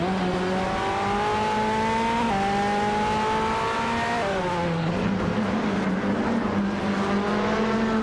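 A 2010 Maytech Ford GT GT1 race car engine in a racing video game, a loud sustained high-revving drone that climbs through gears with brief shifts, tone dropping around midway, no voices.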